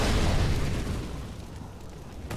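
A Molotov cocktail bursts in Counter-Strike, a loud whooshing blast that fades into a crackling burning rumble.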